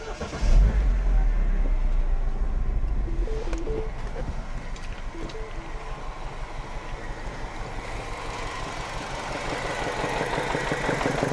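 An older Mini's engine cranks and catches after new spark plugs were fitted, then runs roughly at idle with an uneven, knocking beat, loud and close throughout.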